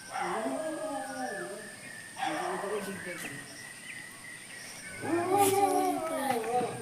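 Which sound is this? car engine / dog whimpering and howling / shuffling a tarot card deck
dog whimpering and howling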